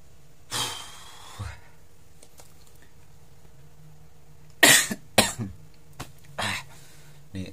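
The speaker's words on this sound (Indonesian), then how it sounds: "Nih saya sampai batuk ini" A man coughs several times in short, separate bursts spread across quiet stretches. One cough is harsh and others come in quick pairs, all close to the microphone.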